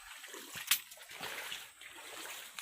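Water splashing and churning as someone wades through a fast-flowing, flood-swollen stream, with one sharp close splash near the start amid steady rushing water.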